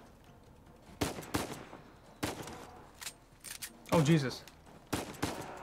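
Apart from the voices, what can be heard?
sniper rifle gunfire in video game Uncharted 4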